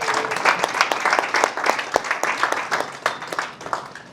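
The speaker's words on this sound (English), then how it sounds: "So with a big round of applause" An audience at a grand launch event for HAGNE Initiatives breaks into dense, lively applause, a close burst of many hands clapping with sharp individual claps standing out, continuing steadily throughout.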